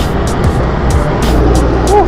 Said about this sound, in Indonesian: Cukup ramai, macet guys.